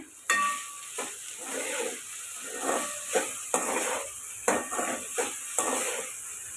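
Vegetable fried rice made with ordinary rice is mixed in a pan, with repeated scraping and clanking of a spoon against the metal and a light sizzle, close and moderately loud.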